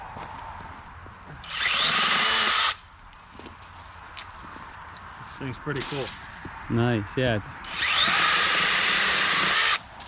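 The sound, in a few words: mini chainsaw cutting wood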